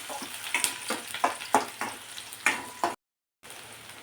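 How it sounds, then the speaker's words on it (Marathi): Finely chopped onion sautés in a pan while a spatula scrapes and tosses it in uneven strokes over a soft sizzle, close and fairly loud, then a brief silent gap before the frying resumes. "थोडासा आपण कांदा परतून घेणार आहोत"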